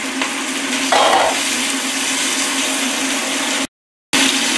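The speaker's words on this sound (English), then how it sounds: "Stir for a couple minutes and we're gonna add in the liver." Green onion and liver stir-fried in a hot pan give a loud, steady hiss with a brief brighter burst of sizzle, heard up close before a short dropout of silence near the end.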